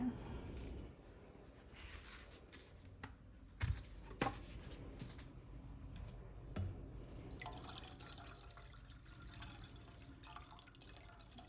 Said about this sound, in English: Then I pour in about a cup per se of white vinegar